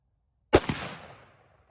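A single close, sharp crack from a pre-ban Springfield Armory M1A rifle, followed by a short echoing tail that fades within about a second, with no talking.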